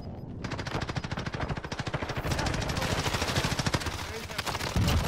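Rapid bursts of automatic gunfire, loud and sustained with a brief pause, crackling shots densely packed for several seconds.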